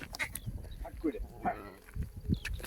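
Sheep in a shepherd's flock bleat faintly in the background beneath someone talking continuously nearby.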